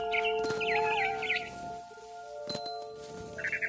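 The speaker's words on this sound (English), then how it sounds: "It was a barn swallow going back to her nest." Barn swallow in a video game chirps and twitters in quick warbling bursts over a soft ambient bed, with a couple of sharper clicks mid-way and more chirps toward the end.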